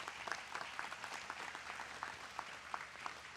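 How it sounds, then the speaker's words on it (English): Applause from a community meeting crowd honoring Boy Scouts, faint and distant, a steady wash of clapping with a few sharper individual claps standing out. "Let's give them a round of applause."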